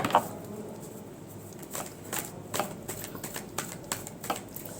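Tarot cards are shuffled by hand in a quiet room, giving soft, quick riffling and slapping bursts, faint and close.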